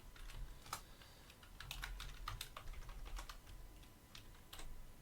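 Someone types on a computer keyboard in quick, irregular bursts of keystrokes. The sound is close and fairly quiet, with no other noise.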